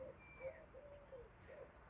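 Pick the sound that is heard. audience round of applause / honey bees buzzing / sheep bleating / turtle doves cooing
turtle doves cooing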